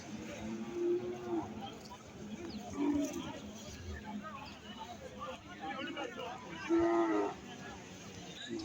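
Native cattle at a country cattle market in Kangayam, Tiruppur, give several deep, drawn-out moos at intervals, with people talking throughout amid crowd bustle.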